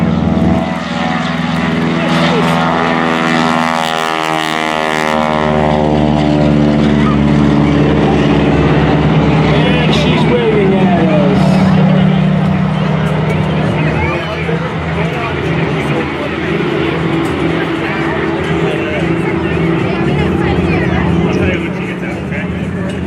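A Stearman biplane's radial engine roars up to full power for its takeoff roll at an airshow, a loud, steady propeller drone that recedes somewhat as the aircraft moves away, with an announcer talking over it.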